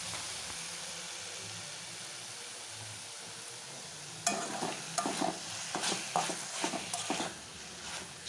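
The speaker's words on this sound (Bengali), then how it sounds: "এটাকে এভাবেই নাড়তে নাড়তে রান্নাটা হয়ে যাবে" Greens (shak) cooking in a pan, Bengali style, give a quiet steady sizzle at first, then turn to close, loud, irregular scraping and clattering as a spatula stirs them.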